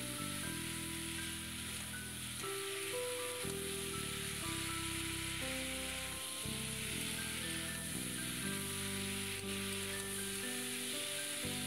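Small mourala fish frying in a hot pan for a sour dish made with dried mango, a continuous hissing sizzle partly masked by steady background music.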